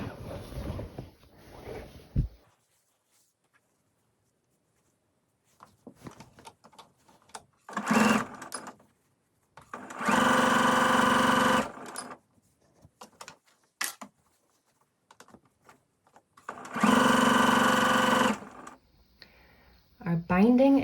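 A sewing machine stitching quilt binding and a label runs in two steady bursts of a couple of seconds each, separated by quiet handling noises and light talk.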